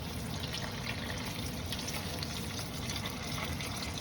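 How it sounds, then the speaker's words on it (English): Oil bubbles and sizzles in a frying pan while tofu fries, a steady, dense crackle heard close up that never lets up. "Since the oil is bubbling, you might want to turn down the heat."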